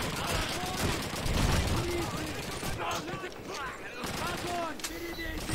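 Gunfire in the video game Call of Duty 2, a rapid rattle of repeated shots in bursts with brief pauses, loud and close, while someone speaks.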